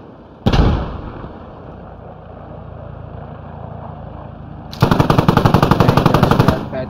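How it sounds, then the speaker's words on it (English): Loud gunfire from the Squad military shooter game: a single sharp shot with a decaying echo, a stretch of low ambient rumble, then a fast sustained burst of automatic fire close by, with no voices. "There was more shots."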